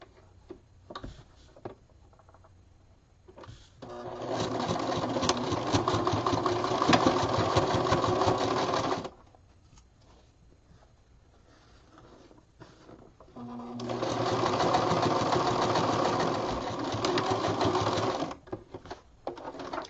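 A sewing machine stitches around a patch pocket in two long steady runs of close, loud, even whirring, split by a quiet pause with faint handling clicks.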